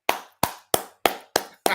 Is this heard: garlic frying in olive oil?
no